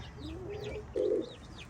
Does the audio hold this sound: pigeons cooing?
yes